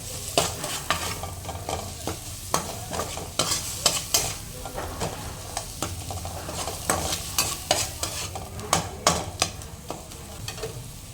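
A mixture fried with turmeric and salt in a pan while making Mughlai paratha, with continuous near sizzling and frequent quick scraping and tapping strokes of stirring throughout.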